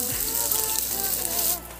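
Chopped onions hitting hot oil in a kadai give a steady, close sizzling hiss that holds evenly and then quickly fades toward the end.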